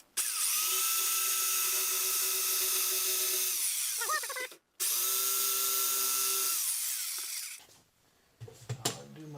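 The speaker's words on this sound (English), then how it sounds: "Now I'm just going to take the jigsaw, follow the line, hands away." A jigsaw cuts along a traced line on a guitar body, whining loudly and steadily in two long passes with a brief stop between, then winds down into quieter handling sounds at the end.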